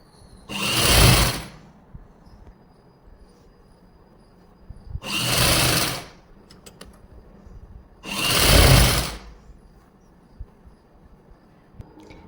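A sewing machine stitches the seat seam of a salwar, running in three loud, close bursts of about two seconds each, separated by quiet pauses with faint handling clicks.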